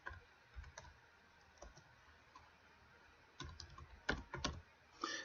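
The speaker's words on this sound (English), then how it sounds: "let's just type the names of some of our team members" Typing a team roster into a spreadsheet on a computer keyboard, heard as faint scattered key clicks at first, then denser bursts of quick tapping toward the end in a quiet room.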